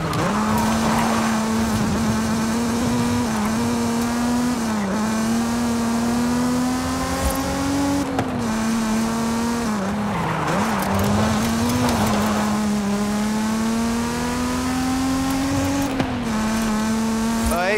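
A Mazda Miata's engine drifting in a video game, holding a high, steady whine that dips and rises as the revs change, with tire squeal and loud, continuous play from start to finish.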